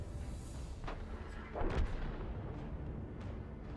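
A tank gun fires once in the World of Tanks video game, a single deep, muffled boom partway through that rises above a constant low rumble of engine and battlefield noise.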